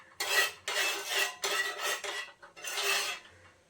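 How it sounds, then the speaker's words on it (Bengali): A spatula scrapes across a pan, spreading oil over a low gas flame, in four or five distinct rasping strokes with short pauses; no voices. "তেলটা একটু ছড়িয়ে দিচ্ছি।"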